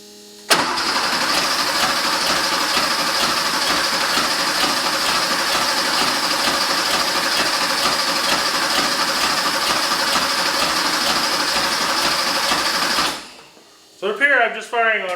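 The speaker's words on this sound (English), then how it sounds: "So up here, I'm just firing on one cylinder." A 1974 Porsche 911 engine cranks and runs roughly while firing on only one cylinder, a loud steady chugging drone up close for about twelve seconds before cutting out, followed by brief speech.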